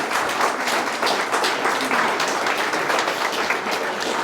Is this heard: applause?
yes